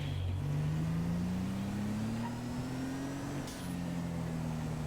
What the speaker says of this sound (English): Y'all can hear that Hemi in this bitch.